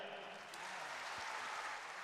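A gathering of students, volunteers and members breaks into steady, fairly faint applause, a continuous wash of clapping that holds evenly for about two seconds.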